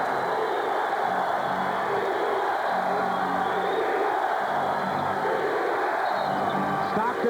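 A packed basketball arena crowd roars at a Utah Jazz versus Los Angeles Lakers playoff game, Game 4, late in a close contest; a dense, loud, unbroken wall of cheering and shouting holds steady throughout.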